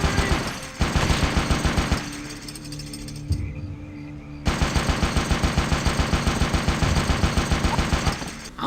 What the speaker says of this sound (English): and a Gatling gun